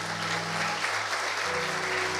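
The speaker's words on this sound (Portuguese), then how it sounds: "Vamos aplaudir Jesus?" A church congregation claps in worship after a prayer, producing a dense, continuous wash of applause over a sustained organ-like hum for a couple of seconds.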